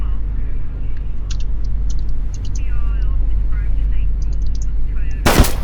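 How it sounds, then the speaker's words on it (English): Gunfire in the police game Flashing Lights: a single sharp, loud shot bursts out near the end over a steady engine and road rumble, with a few faint chirps and sirens drifting in the background. "Oh, I did not mean to shoot"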